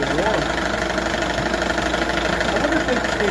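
A 1978 Johnson 6 hp outboard motor fitted with the wrong spark plugs runs at a steady idle, a constant loud, close drone with no change in pace.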